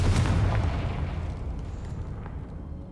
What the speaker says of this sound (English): Just a random explosion.